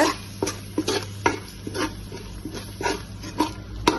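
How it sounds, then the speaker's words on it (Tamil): Ground masala powder frying in oil crackles under a low sizzle while a spoon scrapes and knocks against the pan in regular strokes, close and clear, with no talk. "இந்த மசாலா தூளும் இதுலேயே நல்லா வதங்கட்டுங்க"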